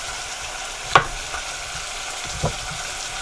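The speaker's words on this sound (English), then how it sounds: "Start cooking the beef right here and let it sit for a little bit." Beef frying in a pot for stew, a constant close sizzle with two brief sharper clinks or stirs standing out, no voices.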